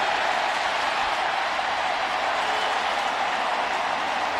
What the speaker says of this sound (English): here's some of the roar of the crowd